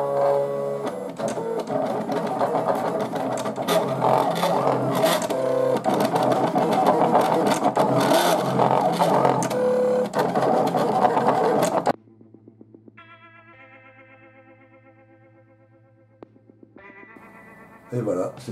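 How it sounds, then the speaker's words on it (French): An electric cutting machine cuts out star and number decals for a Tamiya Lockheed P-38 Lightning model, with a loud, busy whirring and clattering for about twelve seconds, then quieter stepping motor tones. "la machine a bien découpé les bords"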